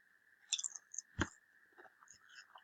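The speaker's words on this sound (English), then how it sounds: "I'm just gonna stand here eating crisps" Crisps being chewed during a round of the Roblox game Murder Mystery 2: a few quiet crunchy bites close up, one sharper bite in the middle, over a faint steady background tone.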